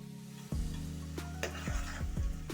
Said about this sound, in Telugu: ఇప్పుడు గోల్డెన్ కలర్ వచ్చేంత వరకు ఫ్రై చేద్దాం.